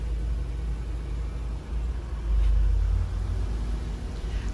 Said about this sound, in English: The engine starts immediately.